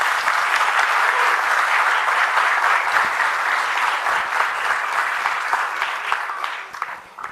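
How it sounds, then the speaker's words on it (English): An audience at a book launch applauds steadily, a dense, loud clapping that holds for several seconds and then starts to thin and fade at the end. "Let's give her a nice applause, please."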